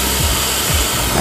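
A homemade oxygen and LPG welding torch runs with a loud, continuous roaring hiss at close range. A low pulsing flutter sits under the rush, and there is no speech.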